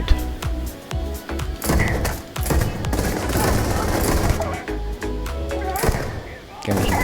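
Regulator gun shots in the video game Starfield crack out in quick irregular volleys, loud and close, mixed with thuds, impacts and busy combat noise throughout.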